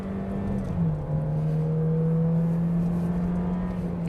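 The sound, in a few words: Toyota Innova MPV driving on Genting road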